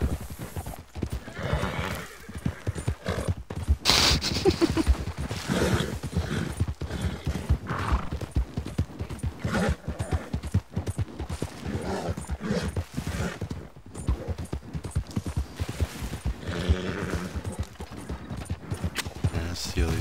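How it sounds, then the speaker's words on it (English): Horses trot with a quick, steady clip-clop of hooves in Red Dead Redemption 2, mixed with neighs and whinnies, while someone talks over the action. "I'm gonna steal these fucking horses"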